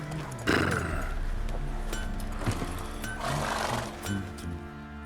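Roach, a horse in The Witcher 3, moves along in rhythmic hoof clops with a brief neigh, close and fairly quiet, set against game ambience and background music.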